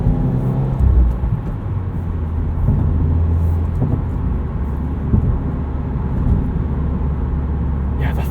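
A 2020 Subaru WRX Premium engine pulls under throttle from inside the cabin, a loud, continuous low rumble with shifting drone that rises into turbo boost. Road noise sits beneath it throughout.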